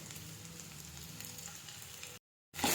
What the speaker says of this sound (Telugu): అల్లం వెల్లుల్లి పేస్ట్ అన్నీ బాగా కలుపుకుందాం. వేగనేస్తాం కొంచెం.